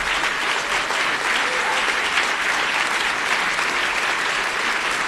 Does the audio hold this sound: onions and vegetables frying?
no